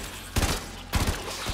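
Weapon fire in the action role-playing game Warframe: two heavy bursts of rapid automatic shots, each lasting about half a second, loud and close, with a fainter third burst beginning at the end.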